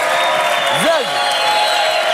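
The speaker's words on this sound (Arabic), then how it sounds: "فما تصفيق على زازا اللي دخلت في جاره" Studio audience applause on a Tunisian talk show, a continuous wash of clapping with a voice speaking briefly over it.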